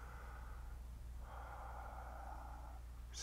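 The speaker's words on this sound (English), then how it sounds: "another one, slow deep breathing" Close, quiet slow deep breaths: a soft airy breath, a pause, then a longer fuller one drawn out for over a second, with a faint sharper sniff right at the end.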